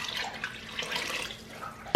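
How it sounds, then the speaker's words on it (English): Water poured into an Instant Pot while making spaghetti, a soft continuous splashing trickle that runs for about two seconds and ends with a brief louder clunk. "what I'm gonna do is I'm gonna mix in some water"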